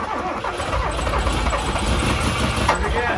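Truck engine running rough and revving unevenly after a restart, with its timing set too far advanced, a loud close mechanical drone that pulses throughout.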